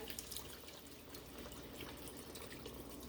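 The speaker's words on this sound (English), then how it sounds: "I'm gonna put me about 4 cups of this chicken broth down in here" Chicken broth poured into a soup pot gives a steady liquid trickle and splash, fairly faint and continuous throughout, with no talking.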